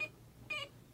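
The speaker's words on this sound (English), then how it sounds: "So now I'm gonna turn it on with this thing. So there's the beep." RCA Studio II vintage video game console at power-on, giving a faint, thin electronic beep that repeats in short pulses, about three times in a second, over a low hum.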